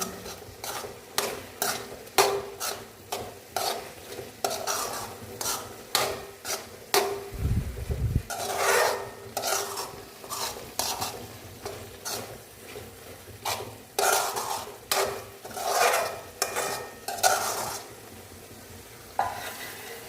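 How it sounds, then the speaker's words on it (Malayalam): A spoon repeatedly scrapes and turns dried stingray thoran with grated coconut in a pan, rhythmic stirring strokes over a soft sizzle, with one brief low thump midway. "ഇട്ടിളക്കിയിട്ട് ഇളക്കി യോജിപ്പിക്കുക"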